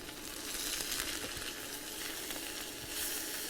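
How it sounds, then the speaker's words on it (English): Cabbage and beans sear in a soup pot with a steady, soft sizzle and crackle. The frying is continuous and fairly faint throughout, with no voices. "I'm going to let the cabbage sear a little bit to have a little bit of that burnt flavor to it."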